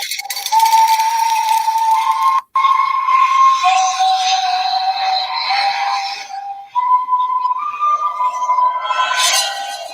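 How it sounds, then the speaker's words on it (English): Aztec-style death whistle letting out long, harsh, shrieking wails with a rough rattling edge, several sustained blasts separated by brief breaks, loud and close throughout. "the death whistle is horrifying"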